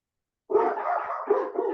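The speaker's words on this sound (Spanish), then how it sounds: "Ay, esos perros." Dogs bark after a moment of silence: a few loud, close barks and yelps in quick succession, with no voices over them.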